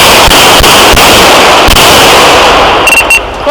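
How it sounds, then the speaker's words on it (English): Police gunfire at an armed suspect: a rapid series of five or six sharp, very loud shots in close succession, followed by quieter vehicle noise at the end. "5-7 shots fired"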